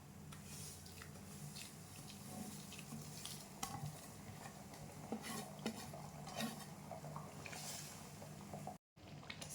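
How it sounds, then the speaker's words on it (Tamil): Semolina being stirred into boiling water for rava kesari in a pot, a quiet continuous scraping and bubbling with occasional soft spoon clinks, faint and steady throughout. "கிளறி விட்டே போடுங்க"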